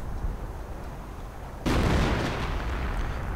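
A 25-pounder artillery gun fires once in a war video game: a single sudden heavy boom partway through, followed by a broad rumbling roar that fades slowly over a low background drone.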